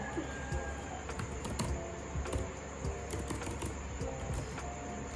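Label text being typed on a computer keyboard while building a circuit in Logisim, heard as soft, quick key taps that come faintly and steadily through a low background hum.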